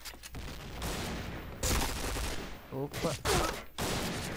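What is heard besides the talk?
automatic gunfire in a video game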